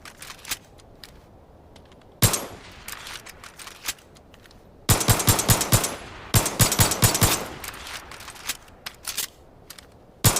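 P226 pistol fire in the video game Division of Arms: sharp single shots, then rapid bursts of crisp reports with mechanical clicks between, close and loud, no talking.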